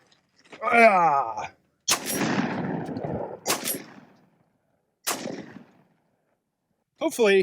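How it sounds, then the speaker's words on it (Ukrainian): Sharp, loud blasts from a SPAS-12 semi-automatic shotgun fired one-handed ring out, one after another with pauses between, each trailing into a short rumbling echo; a voice is heard briefly. "Готові зробити ще один постріл?"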